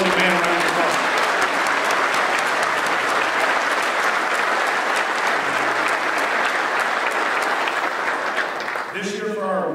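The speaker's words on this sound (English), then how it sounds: "So let's all give the opening band a round of applause." An audience applauds the opening band at a fire department symposium, with dense, sustained clapping that carries on evenly for several seconds before a voice comes in at the end.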